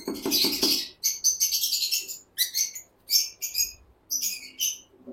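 Lovebirds at a breeding farm in Khulna chirp in quick, shrill bursts, several birds calling in clustered phrases separated by short pauses, close and fairly loud with no talk.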